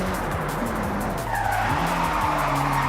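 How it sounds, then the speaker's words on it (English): A car slides through a mountain touge road in Forza Horizon, its tires squealing steadily in a long skid over a loud, continuous engine roar. "Just like that, sliding everywhere."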